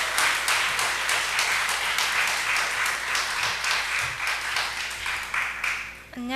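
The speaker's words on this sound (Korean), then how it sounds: "나오실 때 큰 박수로 맞이해 주시면 감사하겠습니다" Warm applause from a church youth conference audience welcoming a speaker to the stage, a dense, sustained clapping crowd that tapers near the end.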